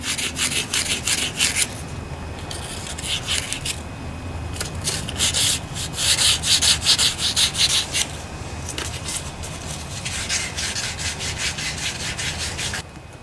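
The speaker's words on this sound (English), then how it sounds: "I have some sandpaper rolled up here. Poke that down inside the bearing. Clean it out, sand it out." Rolled-up sandpaper scrapes inside a rusty Briggs and Stratton starter motor bearing in quick, steady back-and-forth strokes, a close, raspy rubbing with brief pauses.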